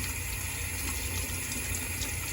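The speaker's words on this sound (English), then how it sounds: "this water is representing the airflow" Tap water runs in a steady, continuous stream, close and fairly quiet, with a soft wash of splashing and no voices.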